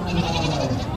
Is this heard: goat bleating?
yes